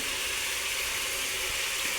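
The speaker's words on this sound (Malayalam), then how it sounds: "ആ പാത്രത്തിൽ തന്നെ അര ഗ്ലാസ് വെള്ളം ഒഴിച്ച് അരപ്പും എല്ലാം കൂടെ മിക്സ് ചെയ്ത്" Half a glass of water poured into beef roast masala in a cooking pot, a steady, close rushing hiss that lasts throughout without pause.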